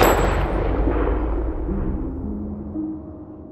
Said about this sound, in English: And then the gunshot.